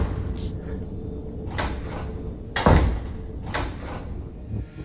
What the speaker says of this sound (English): the opening and closing of the door begins yet again